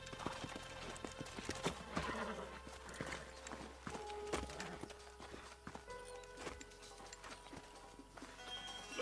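Video game horses in Red Dead Redemption, hooves clip-clopping in a quick, uneven rhythm with a horse whinnying, amid scattered clatter and faint background noise.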